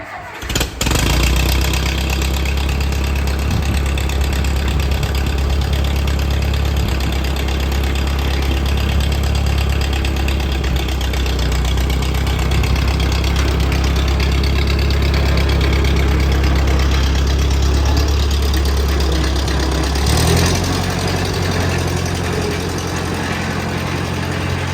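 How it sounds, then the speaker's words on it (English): An old Massey Ferguson 35 tractor engine idles loudly and steadily nearby, a low chugging drone with a brief shift in tone near the end. "at least getting the tractor back to the point I can use it again"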